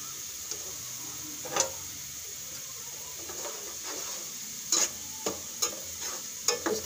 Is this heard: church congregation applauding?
no